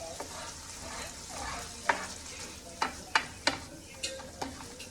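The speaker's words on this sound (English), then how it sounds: "I'm adding soy sauce to you guys." Chicken with soy sauce simmers in a pan, a low steady sizzle with a run of sharp metallic scrapes and taps from a utensil in the second half, no talking.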